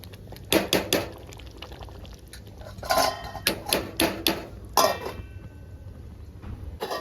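A metal lid clanks onto a cooking pot of gongura mutton, a series of sharp clinks and rattles in short clusters, close up over a quiet hiss.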